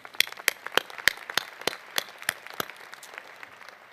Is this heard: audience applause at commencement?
yes